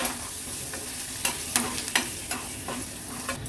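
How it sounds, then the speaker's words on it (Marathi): Chopped chillies and spices sizzle and crackle in hot ghee in a pan, with occasional scraping taps of a spoon stirring, close up. "आता फोडणी छान आपण परतून घ्यायची आहे"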